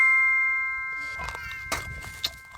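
Notification bell sound effect: a clear bright ding that rings out and fades, followed by a few faint metallic taps and clinks.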